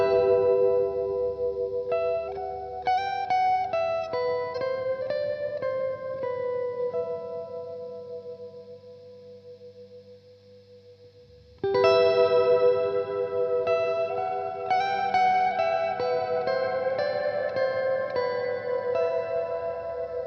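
Cirrus reverb and delay pedal playing sustained ambient tones with long reverb tails, its dampening (high-cut) knob being turned; the washy tones fade to near silence around the midpoint, then a fresh bright chord swells back in.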